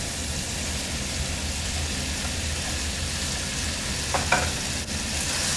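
Vegetables for keto jambalaya hit a hot pan, giving a steady broadband sizzle close up, with a faint low hum beneath and a couple of brief scraping touches near the end.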